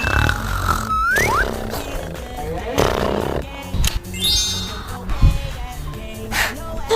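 A dad snores loudly while asleep, with deep, rough roaring snorts in an irregular rhythm close by, mixed with cartoonish sound effects and whistles.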